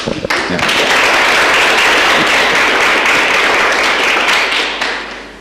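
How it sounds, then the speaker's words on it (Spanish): A crowd bursts into applause, dense steady clapping that holds for several seconds and then tapers off. "Lo puede dar un aplauso."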